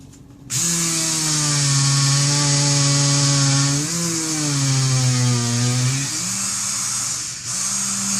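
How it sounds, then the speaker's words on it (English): A Dremel rotary tool trims a plastic airsoft gun part with a loud, close, high whine whose pitch dips and rises as the bit bites into the plastic during one sustained cut. "Now be careful when using a Dremel tool."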